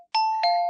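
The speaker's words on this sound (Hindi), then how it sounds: "तभी डोरबेल बजी" Doorbell ringing with a two-tone electronic ding-dong, bright and close, the second tone following quickly after the first and ringing out briefly.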